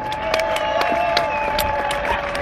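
A crowd of spectators claps at the finish of a rowing regatta, a steady patter of many hands with a few sharper close claps, faint cheering and a murmur of voices underneath.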